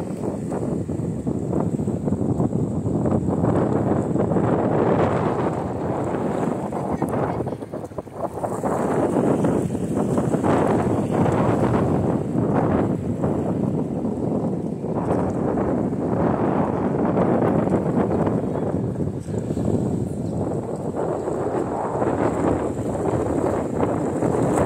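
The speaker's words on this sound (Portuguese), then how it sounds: "Vento, né? Mas tá fraco, não tá muito forte não." Wind gusts buffet the microphone at the port of Itajaí, where cargo ships and tugboats sit nearby. A loud, continuous rumbling roar rises and falls with the gusts, with one brief lull partway through.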